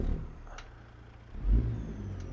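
A truck engine in the video game American Truck Simulator, hauling a drywall load, rumbles low and steady, swelling briefly midway before settling back to a constant drone.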